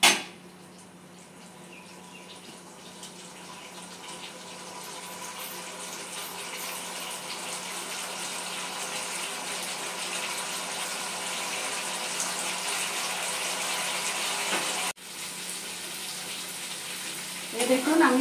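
Yogurt spice mixture for cauliflower cooks over a medium-to-high gas flame, giving a steady, close sizzle and bubbling hiss that holds for the whole stretch. A brief scrape or stir comes near the end.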